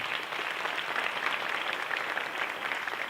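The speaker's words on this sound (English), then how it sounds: "Let's give her one more round of applause." Steady applause from a conference audience for a speaker, dense and even throughout without a break, with no voices standing out above it.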